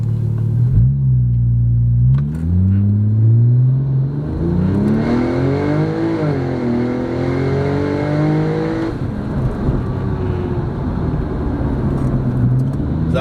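A Porsche 997 Turbo with a Tiptronic automatic launches hard from a standstill on a test track, engine note climbing loudly through the gears with a brief dip at each upshift, close and continuous.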